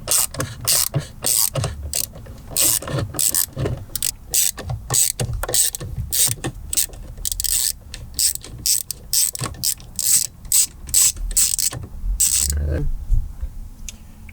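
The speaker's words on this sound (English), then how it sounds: "Next thing we're going to do is undo these 4 screws." A ratcheting screwdriver clicks rapidly and steadily while screws are undone to remove a BMW M-Performance steering wheel, close up with quick repeated ratchet bursts and short pauses.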